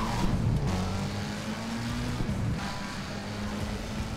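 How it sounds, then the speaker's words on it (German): A car revving at full throttle in the racing game Need for Speed World, its engine drone steady and fairly close with a shifting tone, and no voices over it. "Und Vollgas."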